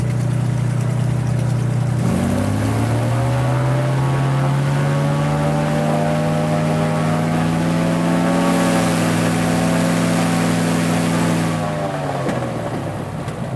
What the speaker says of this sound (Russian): Вот как звучит 72-летний самолет.